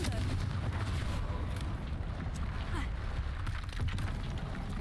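Confringo fire blasts in Hogwarts Legacy, a continuous roar of booming, rumbling explosions with dense crackle, loud and close for the whole stretch, no voices over it.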